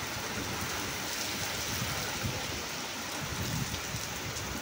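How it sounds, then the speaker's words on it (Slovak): Steady rain falls outdoors in summer, a dense even hiss of drops on surfaces close by, continuous without a break. "A nie je to až taká studená voda, čo prší"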